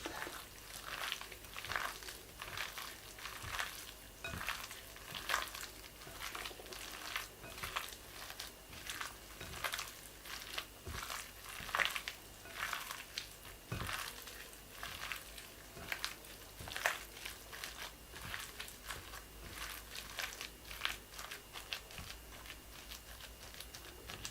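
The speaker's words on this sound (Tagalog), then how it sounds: "And we put flour and mix it." Beef steak pieces are mixed with flour by hand, making soft, wet squishing and pattering sounds in an irregular, continuous rhythm, close and fairly quiet.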